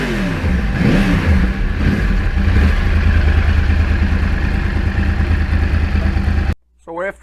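A Yamaha R1 crossplane motorcycle engine runs loud and close, holding a steady revving drone for several seconds before cutting off abruptly, followed by a brief spoken word.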